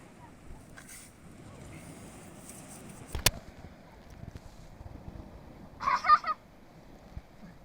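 A person imitates a duck with a voice during an animal-style yoga exercise, giving a brief quack-like honk near the end after a faint earlier sound, against quiet outdoor background noise.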